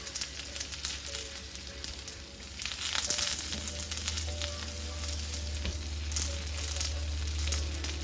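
Onions and black bean burger mixture frying in a pan, a constant close sizzle with crackling pops and a few brief stirring scrapes, growing slightly louder toward the end.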